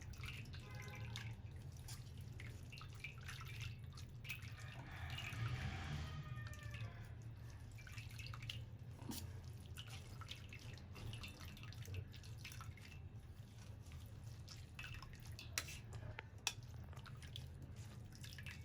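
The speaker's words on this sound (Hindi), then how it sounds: "देखिए अब नीचे पानी निकल रहा है" Water draining and dripping from strained, pressed chenna for rasmalai in a home kitchen, a faint steady trickle with scattered drips over low room hum, with no talking.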